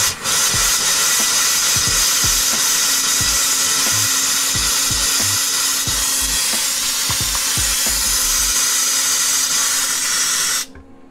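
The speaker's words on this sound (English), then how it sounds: "try the cold, wait for the water to be finished until we get air coming out of the lines" Compressed air hisses and sputters out of a travel trailer sink's cold water line, a loud continuous rushing blast with irregular low spits of expelled water, cutting off abruptly near the end.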